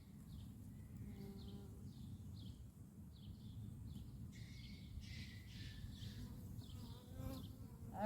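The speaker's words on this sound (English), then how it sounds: "These bees are all over the queen." Honeybees hum with a constant low buzz while a new hive is being installed. Brief higher scratchy sounds come from handling the hive, and the whole scene is quiet and close.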